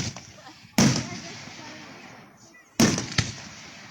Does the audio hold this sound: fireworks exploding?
yes